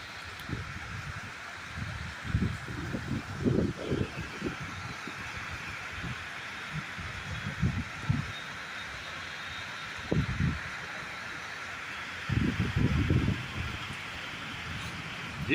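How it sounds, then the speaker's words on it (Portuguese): Strong wind in Embu das Artes, blowing in uneven gusts that rise and fall with rough low rumbling bursts against the microphone, fairly loud and close, with no one speaking. "Que vento forte."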